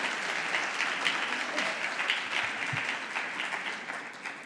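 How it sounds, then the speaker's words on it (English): Audience applause for the chief guest at an ICAN Dubai conference, a dense and steady crowd clapping that stays even and fairly loud through the whole stretch. "all of you all, a big round of applause for ma'am."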